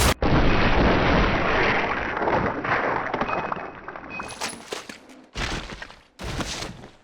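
Handgun shots boom in the Resident Evil REmake, a heavy blast with a long reverberant tail followed by several sharper, closely spaced shots and brief silences between them.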